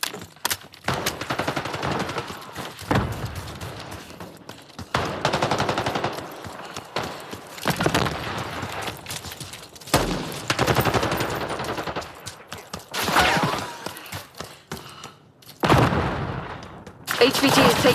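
Gunfire in the video game Call of Duty: Black Ops 6: repeated bursts of rapid automatic fire and shots in clustered waves with brief pauses, loud and close, under intermittent game voice radio chatter.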